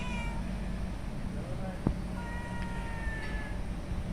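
A cat at Koh Samui Airport lets out a few soft, short meows, fairly faint against a steady background hum of the terminal, with no talking over it.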